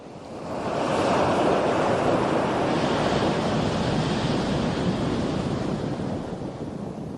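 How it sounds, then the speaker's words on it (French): Heavy surf crashes and roars continuously in the Bering Strait, a loud broadband wash of breaking waves mixed with gusting wind, with no voices. "Frappé par le travers par des vagues puissantes"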